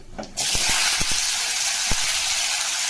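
Eggplant, pumpkin and other vegetables frying with panch phoron and dried chilies give off a loud, steady broadband sizzle that starts abruptly and holds throughout, with a few faint clicks at the beginning.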